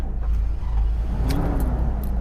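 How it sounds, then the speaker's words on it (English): A GMC motorhome engine catches and runs after the choke is closed and fuel is given, a loud, steady low rumble close by with a brief rising rev partway through and no voices. "Then we're going to throw some gas down it, and she's going to fire."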